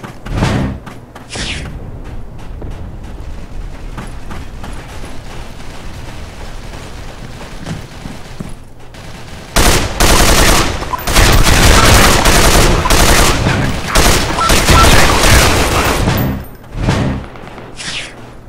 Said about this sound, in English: it's an LMG and it's taking forever to kill